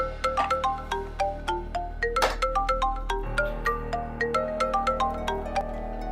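A mobile phone ringtone for an incoming call plays a repeating melodic chime pattern of short bright notes, moderately loud and steady, with no talk over it.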